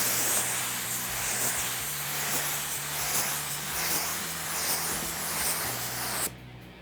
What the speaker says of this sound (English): we're spraying on paper and with a waterborne surfacer